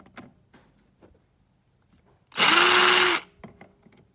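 A power drill runs in one short burst of under a second, whirring as it undoes screws on the fuel filler of a Reliant Scimitar GTE, surrounded by quiet clicks and small handling knocks.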